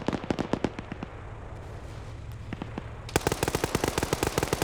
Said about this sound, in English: attracted to the sound of that gunfire